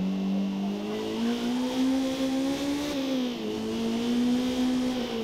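Stock race car in Forza Motorsport on a hot lap, the engine droning loud and close with a steady rising pitch, dipping briefly as it lifts off before climbing again.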